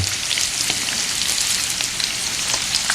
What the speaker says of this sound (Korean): 보통 3, 4분 정도 튀겨주시는데요